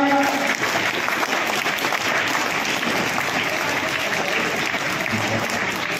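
Loud, sustained applause from students, teachers and parents at a school ceremony for CBSE results, as a teacher is called to the stage; dense clapping runs throughout at a steady, strong level.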